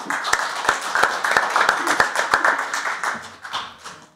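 A seminar audience claps to welcome Professor Lee Cheol-soon of Pusan National University, with sharp, distinct hand claps in a loose, fairly regular beat over softer background clapping.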